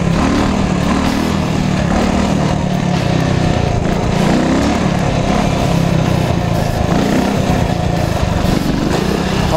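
A motorcycle engine runs loud and close during a wheelie in second gear, a steady dense drone with slight pitch swells as the throttle is worked, no speech over it.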